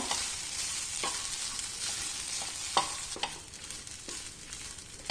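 Changalam paranda chammanthi ingredients frying over a medium flame in a pan, with a constant soft sizzle and several distinct scraping stirs of a spoon, close and without voices.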